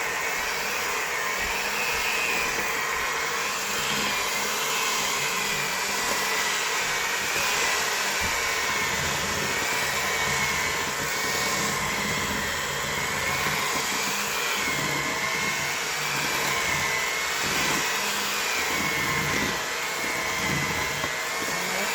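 An electric mixer beating raspberry frosting made with cream, a steady whirring drone that runs continuously and close with a slightly wavering pitch, with no talk over it.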